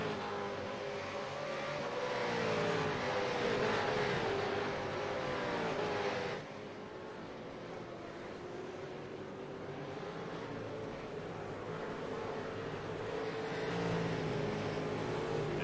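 V8 Supercars race cars lap Sebring International Raceway in Florida. A sustained engine drone holds for the whole stretch and shifts pitch as the cars pass at a distance. A sharp change partway through marks a different car or camera position.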